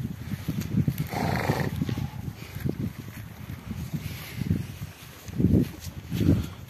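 Horses let out onto spring pasture in early May, with soft low snorting, breathing and shuffling movement close by, rising in a couple of louder bursts toward the end, no talk over it.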